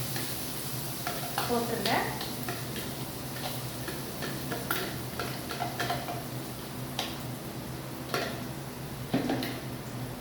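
Ground onion fries in hot oil for a fish curry, giving a steady close sizzle with frequent spoon scrapes and clinks against the pan. A voice speaks briefly over the cooking.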